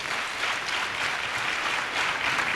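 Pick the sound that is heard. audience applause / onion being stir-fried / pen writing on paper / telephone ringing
audience applause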